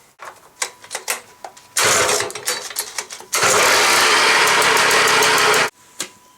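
A Stihl petrol leaf blower with a newly replaced pull cord, starting up: rapid pull-start attempts, then a loud engine burst that drops off, then a sustained full-throttle roar lasting about two seconds before cutting out.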